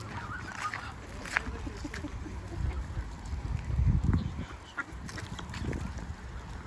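Geese and ducks honk and quack at Harrison Park in Owen Sound, Ontario, a busy cluster of calls rising and falling over an outdoor water-and-wind bed, loudest around the middle.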